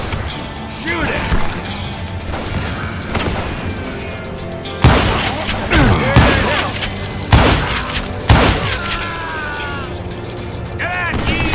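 Gunfire in the Western shooter Call of Juarez Gunslinger, with loud sharp shots and bursts cutting through game sound and music, several heavy volleys clustered in the second half, with voices talking throughout.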